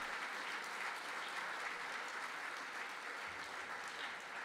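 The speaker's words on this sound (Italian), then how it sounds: "accolto dall'applauso del pubblico di Longarone" A crowd in Longarone applauds skier Cristian Ghedina at a FairPlay FISI Veneto event, steady even clapping holding at a constant, fairly soft level throughout.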